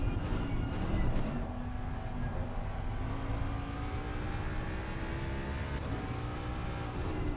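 Race car engines in a sim racing session on the Nordschleife, with a Lamborghini and a Mustang droning and revving steadily, shifting pitch through gear changes at moderate loudness with no talking.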